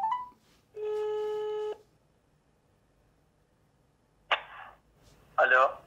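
One sustained ringback tone on an outgoing mobile call, loud and alone after a brief faint chirp, followed by silence and then short voices as the call is answered.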